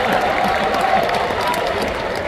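An arena crowd at a live comedy show at Coca-Cola Arena, Dubai, breaks into dense, sustained applause, many hands clapping together for a couple of seconds.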